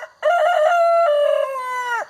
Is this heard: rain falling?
no